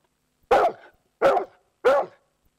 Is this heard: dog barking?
yes